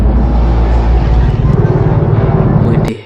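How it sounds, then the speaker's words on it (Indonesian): A heavy, rumbling drone of aircraft, like a helicopter with a low thudding beat, fills the air continuously before cutting off abruptly. "itu adalah suara helikopter dan pesawat"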